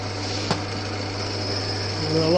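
An old Winfield lathe drives a drill bit into a workpiece, giving a steady mechanical whine and hum with a sharp click early on, close up and continuous.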